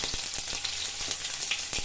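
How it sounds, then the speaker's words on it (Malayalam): Mustard seeds fry in hot oil for a bamboo shoot thoran, giving a close, continuous sizzle broken by sharp crackling pops at irregular intervals. "ഞാനിപ്പോൾ കടുക് വറുക്കാനായിട്ട് ഇട്ട് കൊടുത്തിട്ടുണ്ട്"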